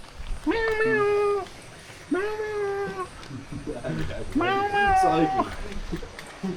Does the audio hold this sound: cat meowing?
yes